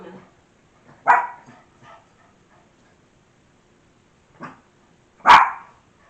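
A dog gives two sharp barks a few seconds apart, nearby, with a few quieter yips and sounds in between.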